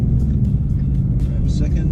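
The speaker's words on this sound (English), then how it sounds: "So go around the roundabout and accelerate out." A manual 2017 Ford Mustang GT accelerates out of a roundabout, its engine a steady, heavy low rumble that fills the whole two seconds from inside the car.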